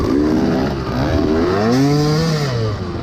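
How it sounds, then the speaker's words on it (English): Dirt bike engine screaming at high revs as the clutch slips during an off-road single-track youth race at Locust Gap, a loud, continuous whine with rising and falling pitch sweeps and no talk. "Hear my clutch revving out."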